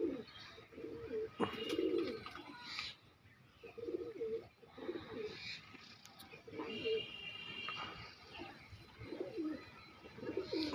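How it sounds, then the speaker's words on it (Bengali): Pigeons coo in repeated low, rounded phrases at a dealer's loft, several birds overlapping with short pauses, close by and moderately loud against a faint background of chirps. "পায়রাগুলো দেখে নিতে পারেন ভালো করে।"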